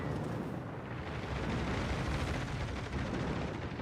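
Torpedo explosions in the World of Warships Legends PC game, a loud, continuous booming rumble that fills the whole stretch with no voices over it.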